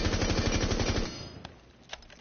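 Rapid automatic gunfire in Rainbow Six Siege, a loud burst of quick evenly spaced shots lasting about a second, followed by two faint isolated pops as the sound trails off.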